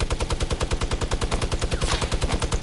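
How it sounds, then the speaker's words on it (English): Steady rapid gunfire in an online video game, a loud, evenly pulsing stream of shots repeating many times a second for the whole stretch, with no voices over it. "I just got sniped at."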